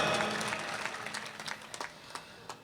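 Audience at a Hindi devotional poetry recital claps loudly, a dense burst of applause that gradually thins into scattered individual claps before tapering off.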